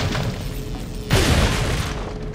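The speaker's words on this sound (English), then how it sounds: "This calls for the fucking shotgun." A shotgun blast in Resident Evil 4, one heavy booming shot that bursts in abruptly over a steady game background and then rumbles briefly as it fades.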